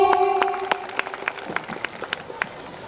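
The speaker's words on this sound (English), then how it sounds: "Big round of applause from our team." Scattered clapping from a school annual day audience, a few distinct claps rising above a faint tonal hum, thinning toward the end.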